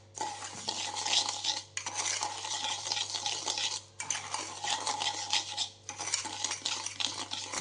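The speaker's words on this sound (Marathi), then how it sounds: "साखर नीट आणि चांगली मिक्स करायची जेणेकरून ती पूर्ण डिझॉल्व होऊन जाईल।" A spoon stirs sugar into yogurt in a bowl, making rhythmic scraping and clinking in four bursts with short pauses between, close and moderately quiet, with no talking.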